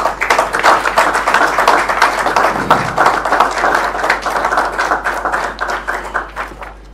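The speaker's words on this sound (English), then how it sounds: "The Honourable Minister deserves another round of applause." Audience applause for a minister at a Kano-Katsina-Jibiya-Gusau road project event in Katsina State, a loud round of many hands clapping close by that holds steady before tapering off, with no speech over it.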